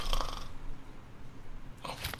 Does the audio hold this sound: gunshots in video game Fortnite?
no